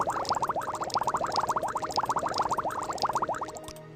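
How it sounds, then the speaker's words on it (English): Potion-brewing bubbling in a fantasy role-playing video game, a steady run of quick rising blips popping one after another at an even rhythm for several seconds, clear and alone with no talk. "I love that bubbling sound"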